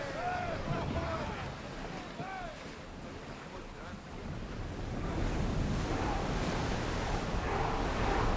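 A ship sails on open sea in Assassin's Creed Odyssey, with waves washing against the hull and wind rushing steadily past, a few short warbling calls near the start, the surf swelling louder toward the end.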